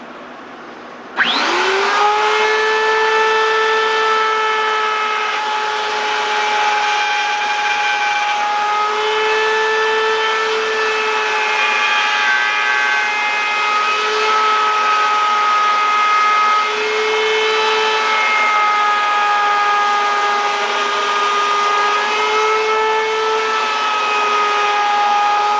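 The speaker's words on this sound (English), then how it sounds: "You want to use a flush trim router like that" A flush trim router cuts a polymer slingshot blank along a template jig with a loud, steady high-pitched whine. It spins up abruptly and holds constant close by for over twenty seconds, with no speech.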